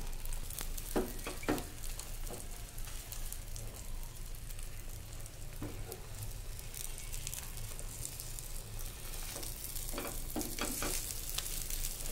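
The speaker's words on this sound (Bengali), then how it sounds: "তো এখানে আমি পাটিসাপটার মতো করে ডিমগুলো ভেজে নিয়েছি।" Eggs frying in a pan, folded over like patishapta, a loud, continuous crackling sizzle close by, punctuated by occasional sharp spatters and pops.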